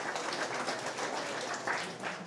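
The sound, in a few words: audience applause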